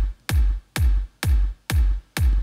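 Five evenly spaced drum hits, each followed by a heavy, dense wash of early reflections that rings out before the next strike; loud, steady rhythm with no talking.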